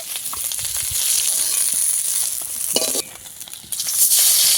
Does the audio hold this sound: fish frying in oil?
yes